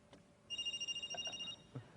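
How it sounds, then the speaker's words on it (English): A mobile phone rings after a call is dialed to it over a Bluetooth link: a steady electronic trill runs for about a second, followed by a few brief tones, with no one talking. "my phone should be calling Phil."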